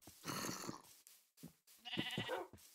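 Sheep in the Minecraft video game give two close, clear bleats with a short pause between them, with no talking.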